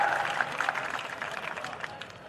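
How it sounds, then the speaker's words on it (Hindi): Audience at a Hindi poetry gathering breaking into lively applause, dense clapping starting strong and slowly fading, with faint voices and cheers mixed in. "जोरदार तालियां, जिसे हास्य का तूफान कहा जाता है।"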